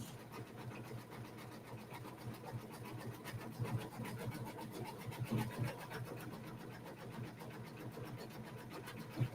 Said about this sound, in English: on my embroidery machine. Yes, it's doing a satin stitch, so Marge will like this.